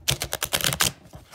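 A quick riffle of tarot cards being shuffled, a rapid burst of crisp flicks lasting about a second, close up and with no voices.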